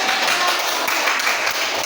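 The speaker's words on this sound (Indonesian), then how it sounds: "Tepuk tangan." Students in a classroom clap their hands together after a lesson on photosynthesis and energy change. The clapping is dense and steady for a brief moment, with no talking over it.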